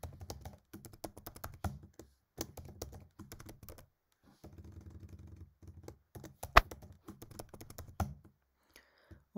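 Computer keyboard keys tapped in quick, irregular bursts while a password is entered, close and crisp clicks with short pauses between runs of typing.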